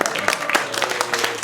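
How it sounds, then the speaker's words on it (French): Applause from an audience at a public assembly on river and water protection, a short burst of scattered clapping heard fairly close alongside faint talk. "Vous pouvez même nous applaudir, on est les meilleurs."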